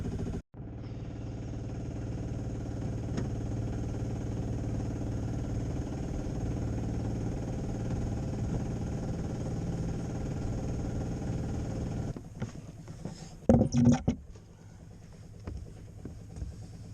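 A long-keeled sailboat's engine drones steadily while underway with wind buffeting the microphone, then a few clunks and knocks near the end.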